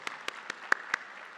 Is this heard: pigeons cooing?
no